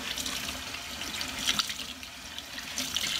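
Running tap water pours steadily over a tie-dyed shirt being rinsed at a sink. A continuous, moderately loud splashing hiss varies slightly as the fabric is moved under the flow.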